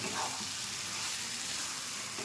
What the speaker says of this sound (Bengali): তো মশলাটা থেকে তেল ছেড়ে দিয়েছে, এবার আমি আলু আর সয়াবিনটা দিয়ে দিচ্ছি।